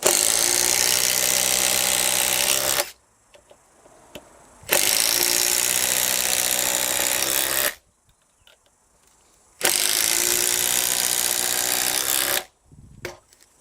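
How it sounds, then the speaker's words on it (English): Several Makita impact drivers, including a 173 model, run at top speed in standard mode 4, each burst a loud, steady high-pitched whine lasting about three seconds, with three bursts separated by near-silent pauses. "let's go back to just standard mode 4, top speed on each impact driver"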